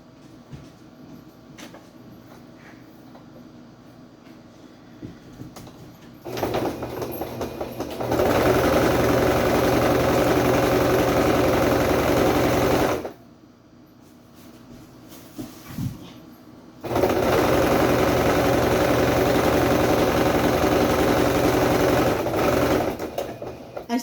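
A sewing machine stitches along the top seams in two long bursts of steady, loud mechanical whirring, separated by short pauses of quieter room noise.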